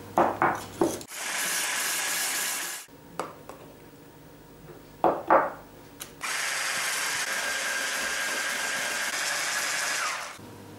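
An electric mixer whips egg whites for coconut cookies while powdered sugar is added, running in two long steady bursts with bright high whirring, separated by short clattering knocks and quieter pauses.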